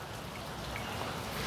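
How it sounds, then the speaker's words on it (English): Heavy rain pours outdoors on a rainy, overcast day in Seattle, a steady, dense hiss of drops that holds an even level throughout with no voices. "it's a very rainy day here in Seattle, really low cloud cover, just pouring everywhere"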